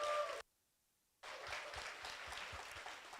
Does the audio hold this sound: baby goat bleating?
no